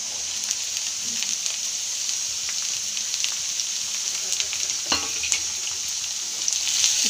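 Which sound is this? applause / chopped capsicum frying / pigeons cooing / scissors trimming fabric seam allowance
chopped capsicum frying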